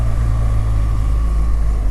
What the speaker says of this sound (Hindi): मेरी कोशिश है पिछली ब्रेक ना ही लगे और गियर ब्रेकिंग पर आ रहा हूँ, इंजन ब्रेकिंग पर आ रहा हूँ।